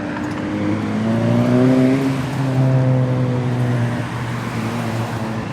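Truck engine idling and revving as it pulls in to park, a steady close-up rumble with rising and falling engine tones, no talking.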